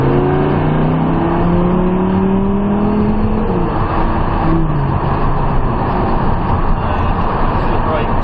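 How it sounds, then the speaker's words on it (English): Lamborghini Huracan engine accelerating hard on a track, a loud, close, rising engine roar with a climbing pitch that holds throughout, while a voice talks over it. "if you get on the throttle now"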